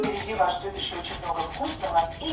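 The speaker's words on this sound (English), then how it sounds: "Pour it into a nice bowl and then grate the garlic." Garlic cloves are rubbed quickly against a grater, producing a close, continuous scratchy rasp with rapid back-and-forth strokes, and no voices heard.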